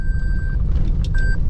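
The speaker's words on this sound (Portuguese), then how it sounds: "Vamos aqui estacionar o carro" Car being parked in a restaurant lot by the São Francisco river in Canindé do São Francisco, with steady reversing beeps sounding twice over a constant engine rumble.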